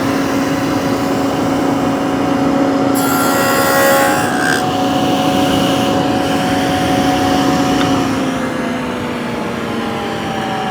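A table saw fitted with dado blades cuts through wood in a steady crosscut, a loud sustained whine with a raised burst of cutting noise partway through before easing back to the running motor hum; no talking.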